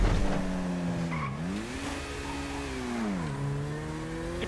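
Car engine in a video game holding a steady tone that dips and rises as the car drifts, with faint tire squeal and skidding underneath, continuous and fairly close.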